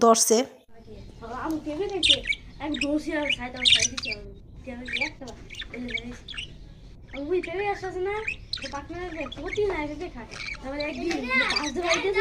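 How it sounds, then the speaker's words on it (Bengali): Small birds chirp and squawk in quick bursts throughout, close and fairly loud, with soft scratching and rustling underneath. "পাখিগুলো এত সুন্দর ডাকতেছিল যে কি সুন্দর"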